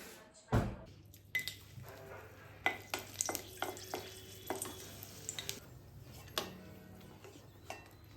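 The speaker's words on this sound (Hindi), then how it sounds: "सबसे पहले मैंने सूखी लाल मिर्च को फ्राई करके निकाल दिया है।" Dried red chillies fry in a pan with a low steady sizzle, broken by repeated sharp clinks and scrapes of a spoon stirring against the metal, close by and moderately loud, with no voices.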